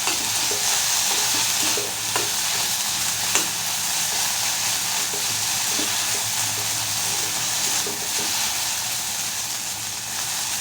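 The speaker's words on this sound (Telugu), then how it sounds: "ఒకసారి మళ్ళీ కలుపుకుందామండి." A sago dish with cumin, coriander and pepper powder is stirred in a pan, giving a continuous loud sizzle with occasional soft scrapes and clinks of the spoon, steady throughout.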